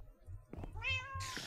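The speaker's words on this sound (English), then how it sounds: "Come here, kitty." A cat in the Minecraft video game gives a couple of short, clear meows in quick succession, close and isolated with no voices.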